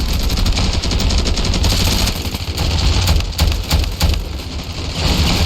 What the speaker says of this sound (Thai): พวกมันมีปืนกลอ่า